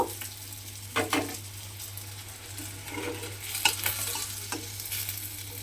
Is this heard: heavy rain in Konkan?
no